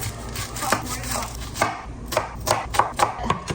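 A knife chops onion into chunks on a cutting board, a dozen or so sharp irregular knocks close up, with quiet pauses between bursts.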